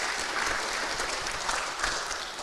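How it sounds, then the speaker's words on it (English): A seminar audience at a philosophy school anniversary gives warm, continuous applause after a speaker's presentation, dense clapping at steady volume over a short stretch. "Give applause for Romo Alexandro"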